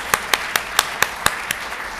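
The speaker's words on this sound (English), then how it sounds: "you can clap, we can clap" Slow, evenly spaced handclaps at an awards ceremony for excellence in teaching, about eight distinct claps ringing out in a steady rhythm at moderate loudness.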